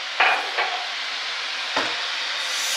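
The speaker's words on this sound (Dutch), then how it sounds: "mama is aan het koken" Food stirred and fried in a home kitchen, with soft scraping knocks of a utensil on a pan over a steady broadband sizzle lasting the whole moment, close and moderately quiet.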